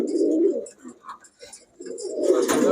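Close, low pigeon cooing in two rolling phrases separated by a short pause, with faint higher chirps in the background.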